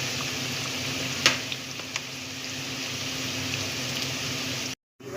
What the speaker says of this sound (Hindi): पकौड़ों का कितना खूबसूरत कलर आ रहा है, कितने अच्छे से फ्राई हो रहे हैं ये